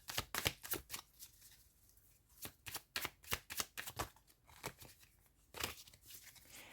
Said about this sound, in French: On va faire un petit tirage avec les hiéroglyphes.